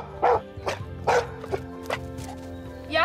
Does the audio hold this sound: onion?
no